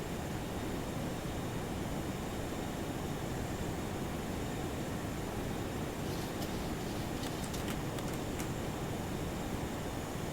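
Boeing 737-200 jet engines in the X-Plane 11 flight simulator make a steady, dense roar that fills the whole clip, with no voices over it.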